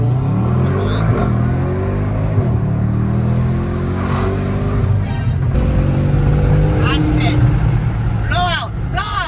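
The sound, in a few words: BMW M550i with modified downpipe and exhaust revving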